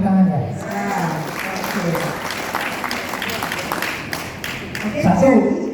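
An audience claps together during a PMD therapy demonstration session, a dense patter of hands in the middle, with people talking at the start and end.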